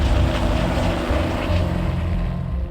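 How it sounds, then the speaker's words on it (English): A helicopter flying to locate wolves in Arizona, a loud, steady engine and rotor drone holding close and constant throughout without a break, no voices over it. "Once located, the helicopter crew sets out to find them."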